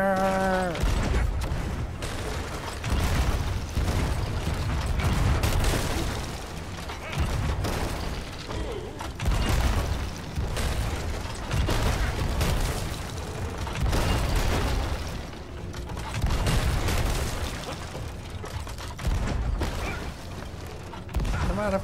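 Ship cannons firing in Sea of Thieves during a battle with the Flying Dutchman: repeated heavy booms and crashes rumble through a dense, continuous din of battle noise.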